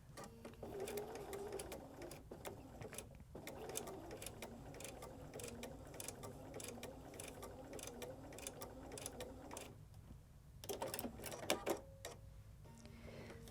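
A hand-cranked sewing machine stitches fabric for foundation paper piecing, producing a quiet, steady run of mechanical ticks. It pauses briefly, then a few more stitches follow.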